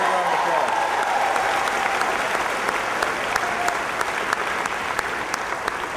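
Crowd at a political rally applauding steadily for the full six seconds, a dense, even wash of clapping with a few sharper claps standing out near the front.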